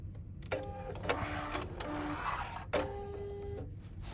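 A sewing machine backstitches through a foldable carry-all duffle bag, running in two close, steady bursts of rapid mechanical stitching separated by a brief pause.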